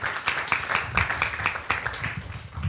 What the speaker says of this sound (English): Give him a round of applause as he comes in.